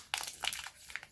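A Dragon Ball Z card pack wrapper crinkles and tears open close by in a short flurry of crisp plastic crackles, quick and uneven, with no talking.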